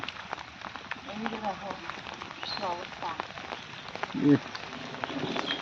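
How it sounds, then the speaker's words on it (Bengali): Heavy rain patters steadily on surfaces in a village, flooding a courtyard, while people talk over it, with a few louder splashes. "এক ঘন্টা বৃষ্টি হইল এক ঘন্টায় এত জল"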